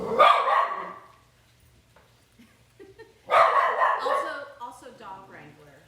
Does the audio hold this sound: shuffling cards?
no